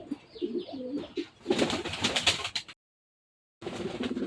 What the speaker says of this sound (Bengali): এখানে এক পেয়ার রেড চেকার কবুতর।